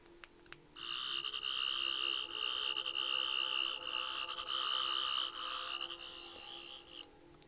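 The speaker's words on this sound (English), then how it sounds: "there's like a cracked, broken sound of the sonic screwdriver" Doctor Who sonic screwdriver replica giving its cracked, broken setting: a steady buzzy, warbling electronic whine with a gritty, fluttering texture held for about six seconds before cutting off, preceded by button clicks.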